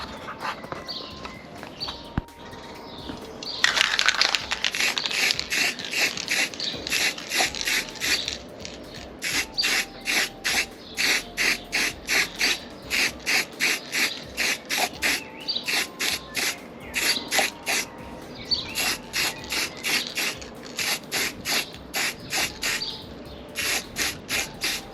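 A spray can undercoating a scratch-built model sphere, heard as repeated short hissing bursts in a steady rhythm, close and moderately loud, after a longer continuous spray near the start.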